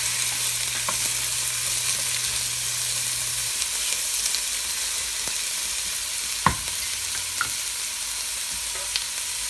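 Vegetables sweat and brown in a pot for brisket, with a steady close sizzle and occasional knocks from stirring, with no voices.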